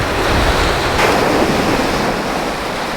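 Sea waves break and wash continuously along a seaweed-strewn beach shore at Buckhaven in Scotland, a steady loud surf roar with wind buffeting the microphone and a swell of louder wash about a third of the way through.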